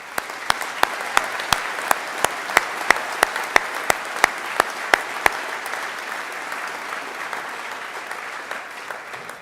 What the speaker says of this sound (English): let us give friends and family here in the Whitla and those joining us online a well-deserved round of applause